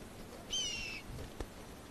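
A hungry golden eagle chick gives one thin, high begging call lasting about half a second. It is faint and distant over low background noise, followed by a brief click.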